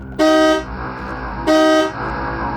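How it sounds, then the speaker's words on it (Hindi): A car horn honks twice at night, each blast loud, close and about half a second long, with a low vehicle rumble continuing between and after the honks. "उस रात तो मैं गाड़ी के हॉर्न से जागा था"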